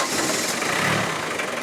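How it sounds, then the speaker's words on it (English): Ford off-road vehicle with a four-cylinder diesel engine turning over and starting, a loud, close rumbling churn with no talk over it. "And when the engine is ignited,"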